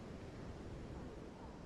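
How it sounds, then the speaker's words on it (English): Ocean waves washing onto a golden sandy shore on a California beach: a steady, broad wash of surf noise, continuous and fairly soft, with some wind rumble and no distinct breaks. "here you can see that beautiful ocean washing onto the shore, covering that golden sand"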